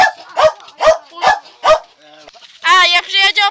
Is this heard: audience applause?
no